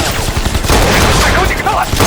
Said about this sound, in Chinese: 美军小队狙击怪物，掩护考察队撤离。